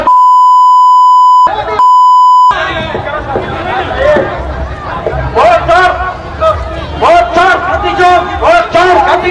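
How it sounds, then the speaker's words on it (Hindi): Two loud, steady censor beeps blank out abusive words spoken from a political rally stage during a Congress yatra, then give way to noisy crowd chatter and shouting. "जहां जहां गालियां हैं उसको बीप किया है"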